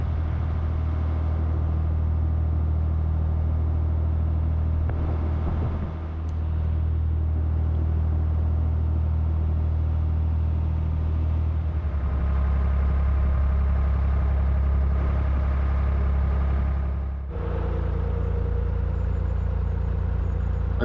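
A narrowboat engine on a river drones steadily throughout, a deep even rumble with a brief dip near the end, no voices.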